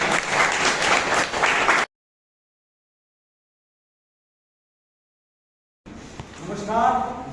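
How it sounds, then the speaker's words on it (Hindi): An audience at an Ayurveda company gathering claps loudly to welcome a guest, a brief dense burst of applause that cuts to silence, followed by someone speaking. "मैं जोरदार तालियों के साथ उनका स्वागत करना चाहता"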